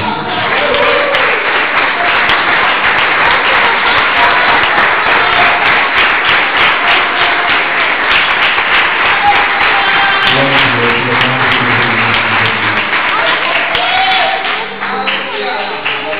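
A church congregation at a mission service claps hands together, a dense, loud, sustained patter of many hands filling the room, with voices, singing and music blending in partway through.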